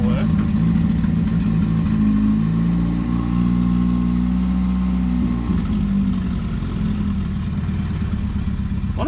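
A Daihatsu F10 engine idles low and steady with a continuous rumble and slight clatter, a faint rev change partway through, running alone without talk.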